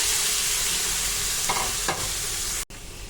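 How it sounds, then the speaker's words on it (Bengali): Cleaned, chopped potatoes go into hot oil in a pot on the stove for aloo bhaji, a loud, even frying hiss with a couple of brief scraping stirs before the sound cuts off abruptly near the end. "তার ভিতরে দিয়ে দেব হচ্ছে পরিষ্কার করে রাখা আলুগুলো।"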